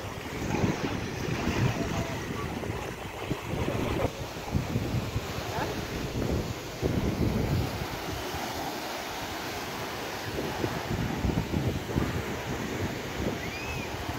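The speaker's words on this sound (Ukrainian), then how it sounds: "Сьогодні море неспокійне вообще." Rough, unsettled sea surf washing onto a Black Sea beach at Arabat Spit, a steady roar of waves with gusting wind buffeting the microphone throughout, no voices.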